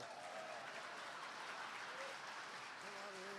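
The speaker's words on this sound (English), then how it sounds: "How about a round of applause for Calvin Valra?" Audience applause at the Canadian Grand Masters Fiddling Competition finals, a faint, distant, steady patter of clapping from a crowd, with a voice briefly audible beneath it toward the end.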